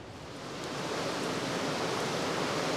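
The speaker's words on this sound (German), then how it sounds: "hier nochmal den Wasserfall." Waterfall near Melkevoll campsite in Norway, a steady broadband rush of falling water that swells in over the first half second and then holds constant, fairly distant and even, with no voices.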